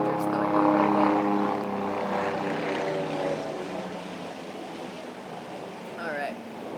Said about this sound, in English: helicopters going over